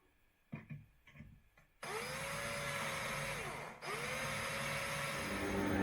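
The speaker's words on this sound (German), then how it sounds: "Dann habe ich hier die Löcher reingebohrt." A drill press spins up after a few light taps and drills into wood, a steady motor whine with two rising-and-falling pitch sweeps as the bit bores two holes, close and loud.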